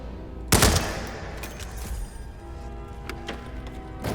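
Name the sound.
assault rifle gunfire in Hitman video game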